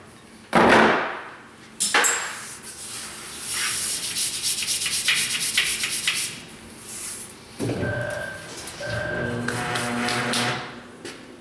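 Old stick-on balance weights are peeled and scraped off a tire wheel: loud rough scraping and rubbing strokes, then sharper tearing pulls and a few knocks, close up with no talking.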